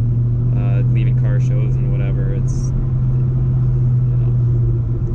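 A Ford SVT Cobra Mustang with a supercharger burbles while driving, a loud, steady low-pitched engine rumble heard from inside the car, with a voice talking over it.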